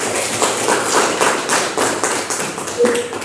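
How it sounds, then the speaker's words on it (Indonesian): A classroom audience claps together during a school lesson, a dense steady patter of many hands that swells and fades over a few seconds. "bagi tepuk tangan"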